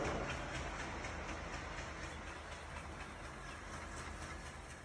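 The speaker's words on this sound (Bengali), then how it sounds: "দেখুন একটার পর একটা ট্রেন যায়।" Trains rumble past in the distance, a steady clattering roar with rhythmic clicks of wheels on track, fading slightly over time.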